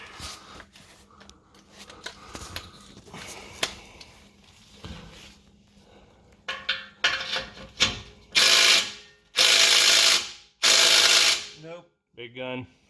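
A torque gun loosening bolts on a RAM 2500 exhaust lets out several loud, sustained bursts of buzzing impact, following scattered tool clicks and rattles under the truck.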